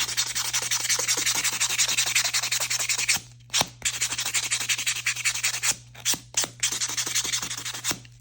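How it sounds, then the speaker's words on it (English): A nail buffer rubs dried acrylic nails in fast, steady back-and-forth strokes. The close, continuous scratchy rasping breaks off in a few brief pauses before resuming, with no voices. "So from here, I'm going to start buffing"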